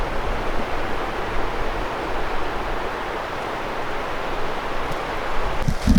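Steady broadband rush of a waterfall near Worthington Glacier in Alaska, a continuous even roar heard from a short distance without pauses, with a few brief knocks near the end.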